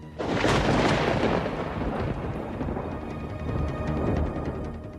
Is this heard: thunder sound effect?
yes